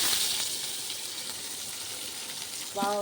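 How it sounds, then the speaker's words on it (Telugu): Cumin seeds and onions frying in hot ghee: a steady, moderately loud sizzle and crackle, with a brief clink of a utensil near the end. "నెయ్యి వేడెక్కిన తర్వాత జీలకర్ర, తిరువాత గింజలు, ఉల్లిపాయలు."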